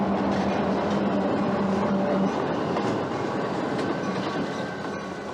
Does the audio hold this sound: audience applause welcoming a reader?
no